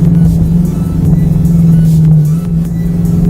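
A 2018 Ford Mustang 5.0 with nitrous, running on slicks and skinnies, gives a loud, steady deep engine drone from inside the car as it accelerates, the pitch holding nearly level before easing off slightly near the end.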